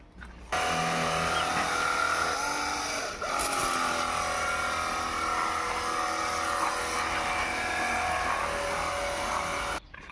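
A handheld car washer gun blasts a forceful water jet onto a car, a loud, steady motorized drone with a brief dip partway through, heard up close.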